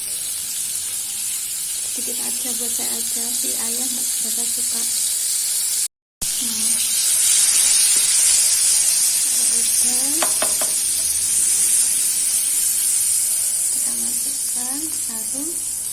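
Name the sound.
stir-frying carrots and green beans in a pan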